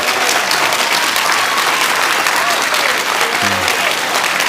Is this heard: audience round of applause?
yes